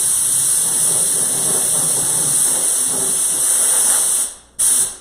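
Compressed air hose blowing dust off a workpiece before HOK clear coat is sprayed, a steady loud hiss that runs almost five seconds, cuts out briefly near the end, then bursts back on.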